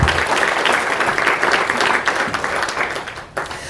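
Audience applause fills a State of the Chamber 2018 business gathering, a dense, steady wash of many hands clapping throughout that thins slightly near the end.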